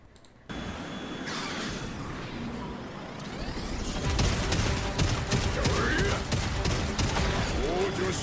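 Bursts of rapid gunfire from mech weapons in the video game Daemon X Machina, dense and loud, building into a sustained volley over a roaring mechanical din, with a voice talking over it.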